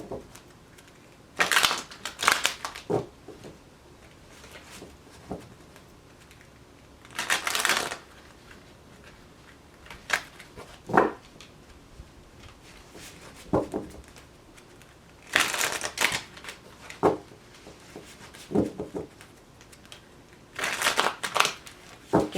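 A deck of tarot cards is shuffled by hand, giving crisp riffling bursts that recur every few seconds with quieter handling between, close and clear, without speech.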